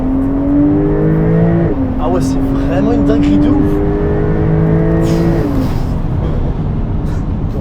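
A Porsche 992 Turbo S with ceramic brakes accelerates hard, its loud engine climbing steadily through the revs and dropping at each gear change, heard from inside the cabin as someone talks over it.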